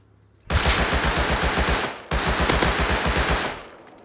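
Automatic gunfire in the survival video game Rust comes in two rapid, evenly paced bursts of about a second and a half each, loud and close, separated by a brief pause.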